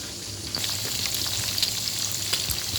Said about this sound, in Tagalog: we will start to fry the chicken